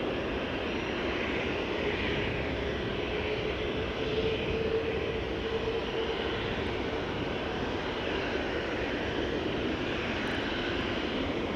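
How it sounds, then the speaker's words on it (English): An Aer Lingus airliner takes off at Amsterdam Schiphol Airport, a broad, continuous jet roar that holds steady and loud throughout, with no voices. "Aer Lingus taking to the skies"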